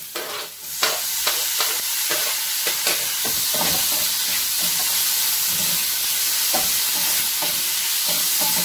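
Onion, ginger and garlic sauté in a hot pan for a chicken kothu chapathi, giving a steady loud sizzle with repeated stirring scrapes throughout and no talk.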